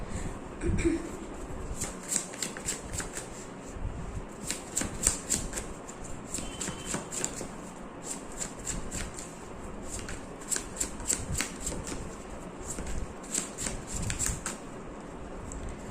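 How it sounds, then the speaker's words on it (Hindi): Tarot cards shuffled steadily and close up, with rapid riffling flicks repeating through the whole stretch and faint talk underneath. "अब मैं कुछ कार्ड्स आपकी फीलिंग्स के लिए भी निकाल लेती हूँ"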